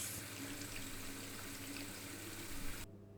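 Running water steadily washes film inside a developing tank, a continuous loud rushing and splashing close by that cuts off abruptly near the end.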